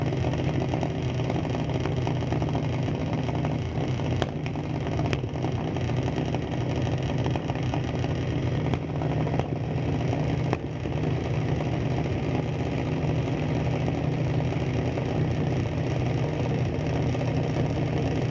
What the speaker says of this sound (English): see quite a few cars exiting the parking lot